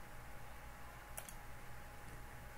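A single quick computer mouse click stands out against a faint, steady room hum in otherwise quiet surroundings, with no speech.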